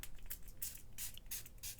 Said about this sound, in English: I'm going to spray a little bit of water